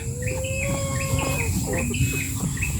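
Chickens chirp and cluck repeatedly over a constant electronic hum, with short calls rising and falling close by.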